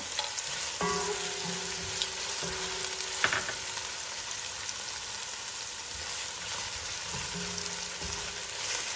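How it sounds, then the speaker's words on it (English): Onion and a cinnamon stick sauté in a pan for keema curry, giving a constant hissing sizzle with occasional scrapes and taps of a utensil stirring; no voices. "We're going to saute this for a couple of minutes."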